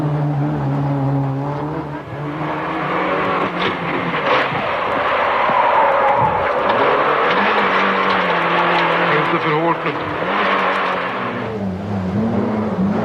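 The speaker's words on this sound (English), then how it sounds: "Håkan Eriksson in the Peugeot 309 GTI" A Peugeot 309 GTI rally car on a rally stage, its engine roaring continuously from onboard, rising and falling with revs and gear changes, loud and close throughout.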